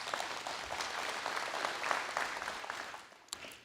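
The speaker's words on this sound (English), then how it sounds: "Let's hold our applause till we're all done" Crowd applause at a groundbreaking ceremony, continuous and fairly faint, heard from some distance and tapering off toward the end.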